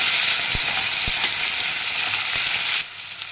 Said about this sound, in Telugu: ఒక టమోటో కట్ చేసి అందులో వేసుకొని అన్నీ బాగా వేయించుకోవాలి.